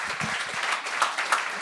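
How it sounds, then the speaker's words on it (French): Audience applause at a comedy stand-up show, a brief burst of dense clapping with no voices over it. "On l'applaudit."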